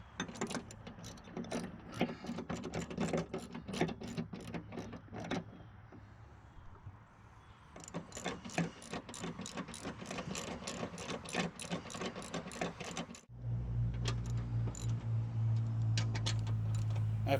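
Bolts tightened on a Craftsman/Husqvarna lawn tractor mower deck spindle housing with a ratchet, a long run of rapid close clicking that pauses, resumes, then gives way to a steady mechanical hum.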